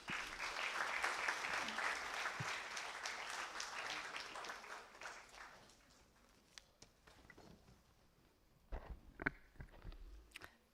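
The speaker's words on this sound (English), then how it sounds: "With a round of applause, let's welcome Ms. Seema Jain." An audience at a formal space-themed event with ISRO guests applauds to welcome a speaker, a full round of clapping that tapers off into scattered claps and faint room noise.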